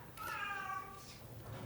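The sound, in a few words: cat meowing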